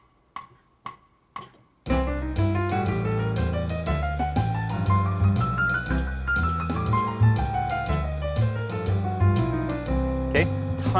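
Jazz piano lines over a walking bass backing track at a brisk tempo, preceded by three sharp count-in clicks, then steady, loud ensemble playing with rising and falling melodic runs.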